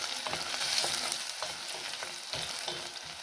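Gluten-free pasta frying in a pan, a steady crackling sizzle with soft scraping stirs recurring every second or so, close and fairly loud with no voices.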